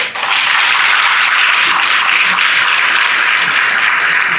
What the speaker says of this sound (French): c'est l'OJBR, que je vous demande d'applaudir très fort